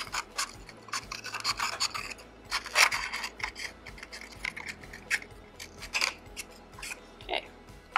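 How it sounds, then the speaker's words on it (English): Scissors snip through a cup to cut its bottom off, producing a series of close, crisp irregular cutting and scraping sounds over a faint steady low hum. "We're going to cut the bottom off of the cup."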